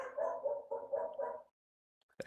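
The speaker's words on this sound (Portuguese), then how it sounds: "O cachorro tá latindo pra caralho aí." A dog barks in a quick series of four or five yips and barks at moderate distance, fairly faint, followed by silence and a brief thump.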